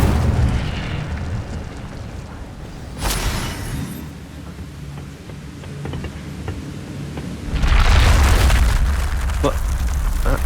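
Fiery bursts from a fire-casting spell in a wizarding school game erupt twice, a sharp whooshing blast early on and a heavier roaring burst later, with a voice talking underneath between the blasts.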